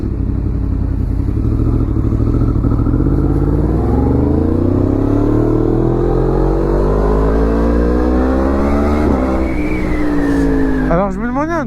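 A Yamaha MT-10 motorcycle engine starts in freezing weather and revs, its pitch climbing steadily for several seconds before sharp blips near the end; the bike is loud and close.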